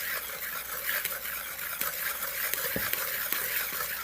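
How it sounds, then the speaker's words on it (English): Sugar and Georgian red wine being stirred by hand into wine-cookie dough, a steady scraping swish in a bowl with a few sharp utensil knocks, close and fairly quiet, with no talking. "I'm going to mix it up well."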